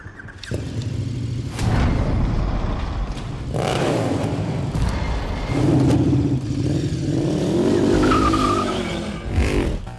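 A powerful KTM Super Duke V-twin roadster motorcycle engine roars and revs in repeated bursts, loud and close, with throttle blips and a rising pitch near the end.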